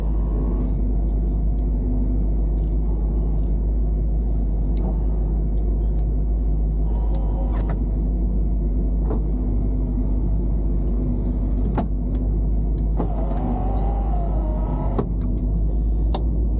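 1963 Cadillac Fleetwood on a test drive, heard from inside as a low, steady engine and road rumble with occasional clicks and knocks; no talking.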